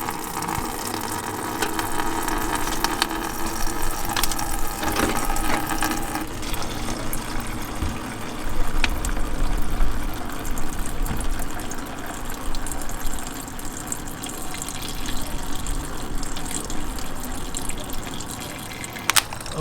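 Water runs steadily through the cooling system of a 1988–1998 Chevy C1500 pickup during a coolant flush, a continuous rushing and splashing wash that holds at an even level for about twenty seconds with no talking.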